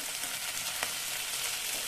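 Chicken pieces sizzle steadily in a pan with fried onions, a continuous close crackling hiss with a light stir near the middle and no talking.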